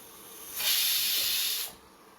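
A pressure cooker steaming Schezwan sauce lets out one loud, steady hiss of escaping steam that lasts about a second, then drops back to a low background.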